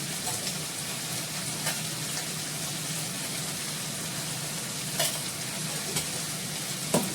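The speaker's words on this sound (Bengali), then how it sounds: "আমি ভাজবো ভালো করে" Food with turmeric fries in a pan, a constant close sizzle with occasional scraping and tapping strokes as it is stirred.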